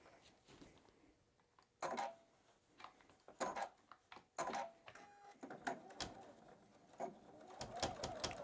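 A Juki sewing machine stitches fabric for an apron in short mechanical bursts of whirring, stopping and restarting several times.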